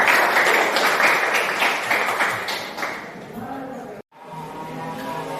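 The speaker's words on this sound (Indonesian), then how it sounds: "Tepuk tangan untuk kita semua." Classroom of students clapping together after a science lesson, a dense burst of applause that thins out and breaks off briefly before faint chatter and movement resume.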